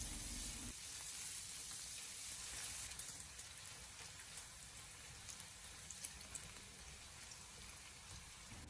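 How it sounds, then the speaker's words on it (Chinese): Ginger, garlic slices and small chili peppers stir-frying in a hot wok with rendered fat, giving a steady, fairly quiet sizzle with scattered small crackles and pops throughout, and no talking. "把姜蒜片还有小米辣加进来，然后继续的给它煸炒几下，把姜蒜的香味煸炒出来"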